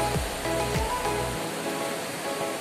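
The great waterfall of the Pita River near Sangolquí, Ecuador, a broad, steady roar of falling water with no breaks, loud and continuous.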